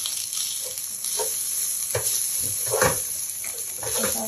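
Fried rice sizzles hard in a hot pan while a utensil stirs it, steady frying hiss broken by repeated scraping and clattering strokes, close and fairly loud, with no talking.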